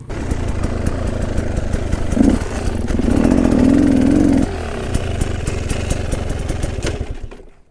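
A two-stroke enduro motorcycle engine idles and revs nearby, a steady buzzing drone that swells louder for a second or so in the middle, with no voices.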